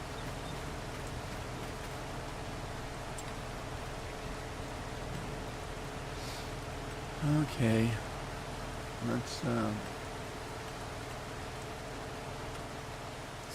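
Rain in Farming Simulator 25 hisses as a continuous, even wash while someone briefly talks over it in a couple of short bursts.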